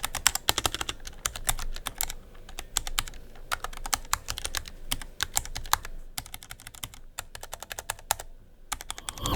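Fingers type on a keyboard fitted with ceramic keycaps, producing rapid bursts of crisp clicky keystrokes in uneven runs with short pauses, close and clear with no talking.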